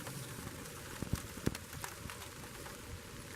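Rain falls on a wooded hiking trail in Monte Sano State Park, Alabama: a faint, steady patter with a few slightly louder drops, no voices.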